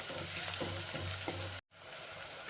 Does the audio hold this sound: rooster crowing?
no